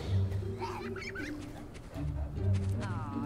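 Chickens in the fantasy role-playing game Fable Anniversary cluck and squawk in short, busy bursts close by, alongside a low background hum.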